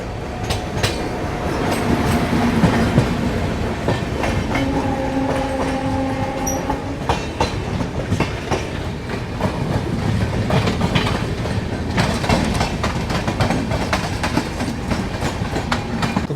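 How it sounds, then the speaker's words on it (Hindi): Vikramshila Express passing close by at Ara Junction railway station, a steady loud rumble of wheels with clickety-clack on the rails and brief tonal squeals, continuous for the whole stretch. "सामने वो जो ट्रेन देख रहे हो इसमें लाइट जल रही है, यही बगल से क्रॉस हो रही है, ये आ गई विक्रमशिला एक्सप्रेस"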